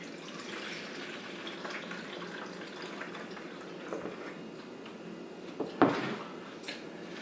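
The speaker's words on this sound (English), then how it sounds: "I'm going to pour some of this juice on here." Juice poured over soaked chicken in a dish, giving a steady close liquid pour with a louder splash and clatter near the end, no talking.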